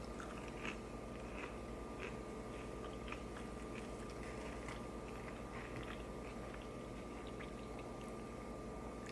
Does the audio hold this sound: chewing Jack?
yes